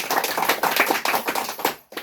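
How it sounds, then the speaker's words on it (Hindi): A community group meeting at an ashram in Purnea, Bihar, breaks into a short round of hand clapping, many hands tapping in quick, uneven bursts, fairly close and loud, ending abruptly after about two seconds. "एक बार ताली बजा दे।"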